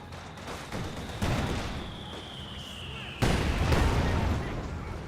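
Battle sounds in the World War II strategy game Company of Heroes 2, with Maxim machine gun fire and mortar rounds. Continuous rattling fire is broken by two loud booming impacts, and a voice talks over the fighting.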